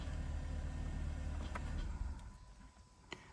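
A Chevrolet Malibu with a 1.5-liter turbo engine from the 2016–2025 generation has a low engine rumble up close, then the level drops and a few sharp clicks follow as it settles toward a quieter idle.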